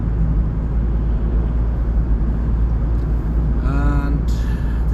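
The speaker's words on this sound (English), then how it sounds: "Here we have a truck coming." Truck passing on a road, a steady low rumble of traffic at a moderate distance that builds slightly with a brief tonal whine near the end.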